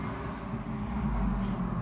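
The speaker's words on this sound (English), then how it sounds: "sorry about the traffic" A low, steady rumble of road traffic passing nearby, continuous and broadband with no distinct vehicle standing out, filling the background without any talk.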